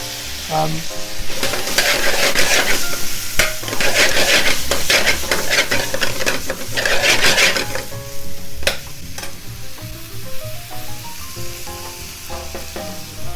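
Onions and peppers sizzle loudly in a restaurant-style pan for Bombay potatoes, with steady frying hiss and scraping stirs; the sizzle eases toward the end as clinks and stirring noises come through.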